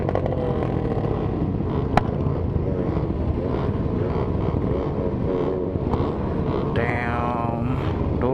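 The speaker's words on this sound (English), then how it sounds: "people revving the hell out of their bikes" Motorcycles at a biking event, including a Triumph Tiger 800XRx, revving their engines nearby in a dense, continuous roar of overlapping exhausts, with a sharp high whine near the end.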